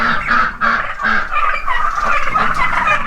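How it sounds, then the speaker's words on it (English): A close flock of fifteen turkeys gobbles loudly, their rapid warbling calls overlapping continuously. "We have 15 turkeys."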